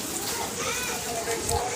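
Steady rain falling outside a home during a rainy morning, a constant soft wash of drops with faint background voices and household noise mixed in.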